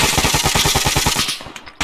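Sustained automatic burst from a machine gun in the military shooter game Arma 3, rapid evenly spaced loud shots for over a second before cutting off, then a brief trailing echo.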